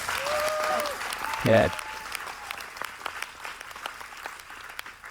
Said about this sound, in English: Clap it up for North Village.